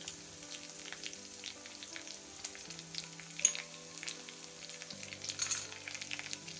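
Curry leaves and chilli pieces frying in a pan for upma, a faint continuous sizzle with occasional stirring scrapes under quiet background music.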